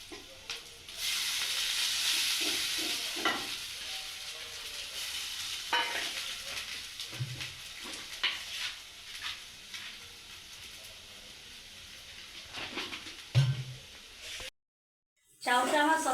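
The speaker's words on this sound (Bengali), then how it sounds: "জলে গরম করে রাখা চাউটার মধ্যে দিয়ে হালকা আমি সতে করে নেব।" Boiled chow noodles sautéed in a pan with a steady frying sizzle and hiss, broken by intermittent spatula scrapes and taps, close and moderately loud, with a brief silent gap near the end.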